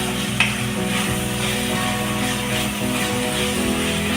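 Flour and tomatoes for pav bhaji cook in a pan with a steady, close sizzle that runs throughout, with a brief clack near the start.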